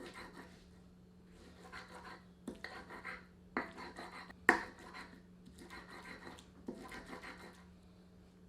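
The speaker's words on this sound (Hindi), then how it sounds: "8 बड़े आकार की लहसुन की कलियों को भी कूट लेते हैं" Large garlic cloves are pounded in a series of rhythmic dull thuds and scrapes, fairly quiet and close, with a sharper knock partway through and a low steady hum beneath.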